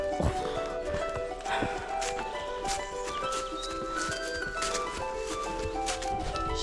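Pony hooves clip-clopping on an outing on foot, a steady close rhythm of hoof strikes running throughout over a tonal background.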